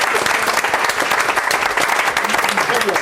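An audience applauds at a live stage show, giving loud, dense clapping with audible individual claps near the front. The clapping stays strong throughout, and voices come through underneath it.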